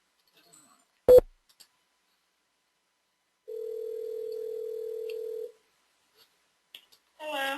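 After a dropped telephone connection, a sharp click is followed by quiet, then a single steady telephone tone that holds for about two seconds and cuts off before a voice begins.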